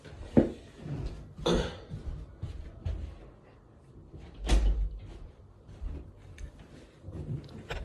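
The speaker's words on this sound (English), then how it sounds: "Hold on, let me shut the door." A door being shut indoors, a few brief knocks and thuds, one heavier thump midway, against a quiet room with faint background noise.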